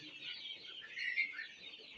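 Desi chicks huddled together against the cold give soft, high chirping peeps in a continuous faint chatter, with one slightly brighter call near the middle.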